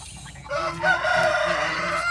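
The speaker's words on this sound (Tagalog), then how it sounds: "Ang manok dito, ayan." A chicken on a farm gives a loud, close, drawn-out call that rises into a crowing cluck and holds for about two seconds with no talking.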